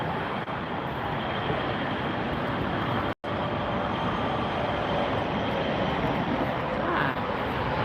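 An Airbus A321-200 jet on Delta Airlines comes in to land at LAX, a steady broadband engine roar close by that fills the whole clip, with one brief dropout partway through.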